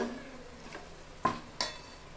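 Chicken biryani with leg pieces simmering in a pot, a soft steady sizzle and bubbling with a few sharp clinks of a spoon against the pot as it is stirred.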